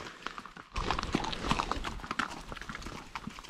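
A ridden horse's hooves clip-clop steadily on a trail near a scenic viewpoint, close and fairly loud, the irregular beats continuing throughout.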